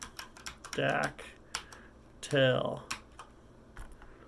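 A file name typed on a Chromebook keyboard, with quick scattered key clicks spread across the stretch, close and fairly quiet, while a person talks in two short bursts over them.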